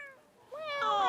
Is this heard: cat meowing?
yes